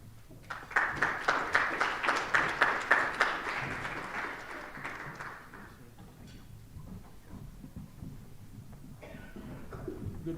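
Applause from a summit audience at a Grand Strategy Summit panel on great power competition, a burst of clapping that swells quickly, holds for several seconds, then thins into scattered claps and room murmur.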